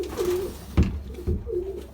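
Soft, low pigeon coos repeat in a slow rolling pattern, close by inside a pigeon loft, with a couple of brief thumps or shuffles between calls.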